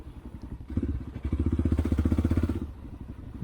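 Honda NX Dominator motorcycle riding in Serbia, its single-cylinder engine throbbing in a fast, rhythmic thumping pulse that swells as the throttle opens, then drops back to a lower rumble.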